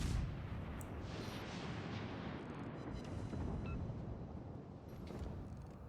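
Warship shells firing in World of Warships: Legends, distant, faint artillery booms over a continuous low rumble.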